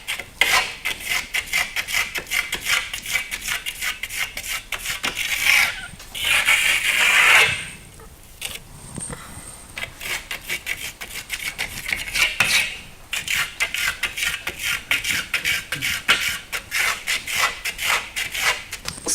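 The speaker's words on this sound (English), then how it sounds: "you can really use the nose of your trowel to get into these areas." Steel trowel spreading FirmoLux Piatto plaster across a wall, working the edges with the nose of the blade: steady close rasping strokes in a quick repeating rhythm, with a short louder smear partway through and a brief pause.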